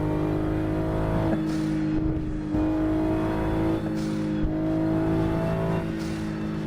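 Simulated car engine in a driving video game, revving loudly and continuously with rising and falling pitch and gear-shift breaks, racing at full speed until a crash.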